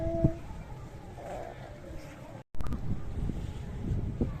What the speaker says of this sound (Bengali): কি দারুণ হাওয়া দিচ্ছে